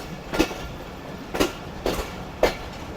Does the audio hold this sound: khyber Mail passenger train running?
yes